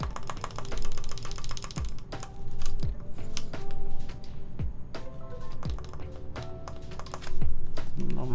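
Keystrokes on a custom TGR Jane v2 mechanical keyboard, a steady run of close, crisp clacks with a few deeper, heavier thocks mixed in, no voices.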